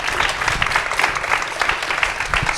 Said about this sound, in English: Can you please give our panelists a great round of applause?